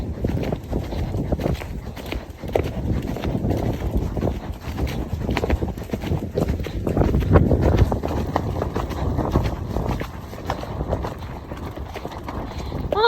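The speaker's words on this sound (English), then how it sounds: "it's popped a lovely little canter" A bouncy horse named Rick canters steadily, rhythmic hoofbeats thudding close by for the whole stretch under a continuous rumble of movement, with no clear talk.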